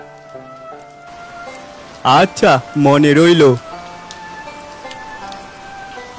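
Monsoon rain falls on a city street, a steady soft patter running throughout, with a short spoken exchange in the middle.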